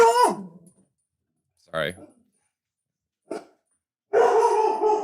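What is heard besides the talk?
dog barking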